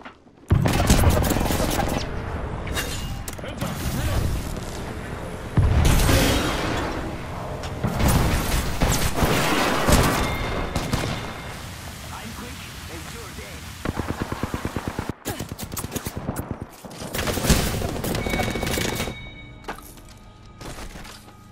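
A video game firefight with enemies and shields brings dense, repeated bursts of automatic gunfire and single shots, loud and close, with short pauses, and voices heard between the volleys.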